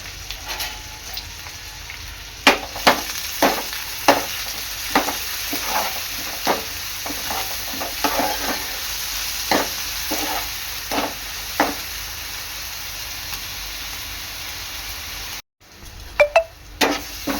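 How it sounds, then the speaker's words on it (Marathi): Chopped onion frying in oil in a pan for a dried bombil and methi bhaji, a steady sizzle broken by regular clinking stirs of a spoon against the pan, close and alone with no talk. "कांदा आहे ना चांगला तेलामध्ये शिजवून घ्यायचा आहे"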